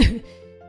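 A woman gives a single short, rough cough, as if from stove smoke, close up, then a quiet tail follows.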